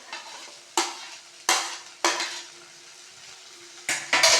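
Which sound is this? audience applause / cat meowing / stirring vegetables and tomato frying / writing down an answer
stirring vegetables and tomato frying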